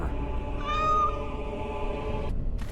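A kitten meows in a long, drawn-out call, close and clear against a quiet room, the tone rising and then fading over a couple of seconds.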